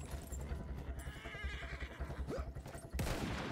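A horse whinnies on a World War I battlefield in Battlefield 1. Hooves clop steadily and guns rattle in the background, and a sharp neigh rises near the end over the din.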